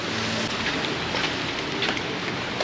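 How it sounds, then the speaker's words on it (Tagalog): Steady broadband hiss of heavy rain pouring down, continuous and fairly loud throughout, with a low rumble underneath and no voices. "Lakas ng ulan."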